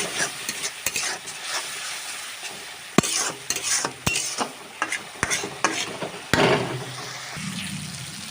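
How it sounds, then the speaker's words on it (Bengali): Spice masala for canteen-style ghugni sautéed with a splash of water and stirred in a pan: a close, steady sizzle broken by repeated sharp spatula knocks and scrapes, with a wetter, louder bubbling surge near the end. "দিচ্ছি একটু জল দিয়ে কিন্তু ভালো করে আমি মশলাটাকে কষিয়ে নেব।"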